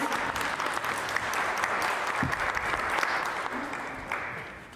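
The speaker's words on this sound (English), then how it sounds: "Let's give her a round of applause." An audience at a convention applauds as the MC is introduced, a dense, even wash of clapping that holds steady and tapers slightly at the end.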